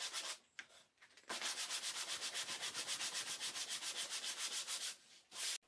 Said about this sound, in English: When the filler is dried, I sand it flat.